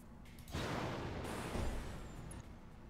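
Mech weapons fire in the Battletech video game: a loud broadband burst that begins sharply about half a second in and holds for roughly two seconds before easing off, with no talk over it.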